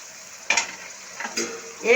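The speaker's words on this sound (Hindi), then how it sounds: "एक दफ़ा इसे मिक्स करेंगे अच्छे से" A spoon mixes okra and peas masala with fine ginger, fresh coriander and lemon in a hot pan; three distinct scraping stir strokes sound over a soft background sizzle.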